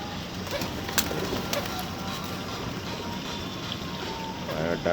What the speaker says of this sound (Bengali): পায়রার ডাক শুনতে পাচ্ছেন?